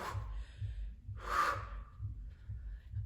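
A person lying on a floor or bench during a dumbbell upper-body workout lets out one audible breath, a short breathy exhale in the middle over a low steady rhythmic music beat.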